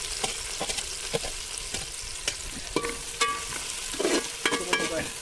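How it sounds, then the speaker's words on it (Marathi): Chillies and onion frying in hot oil for egg curry sizzle steadily up close, broken by repeated scraping and tapping stirs of a spoon in the pan. "गरम तेलामध्ये मिरची टाकायची मिरची थोडीशी फ्राय झाली की त्यात कांदा टाकायचा"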